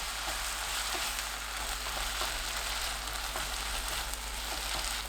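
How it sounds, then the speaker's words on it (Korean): Perilla leaves stir-fried with soy sauce, fish sauce, mirin and red chili over medium heat, sizzling in a steady, even hiss with faint occasional stirring, close and unbroken. "진간장 1큰술, 멸치 액젓 1큰술, 미림 1큰술, 깻잎, 홍고추 넣고 중불로 30초 볶아주세요."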